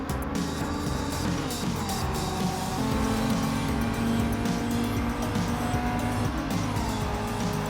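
A race car engine revs hard toward its limit in Gran Turismo 7 while running side by side with rivals through a corner, a loud, sustained roar with shifting pitch and the hiss of tires throughout.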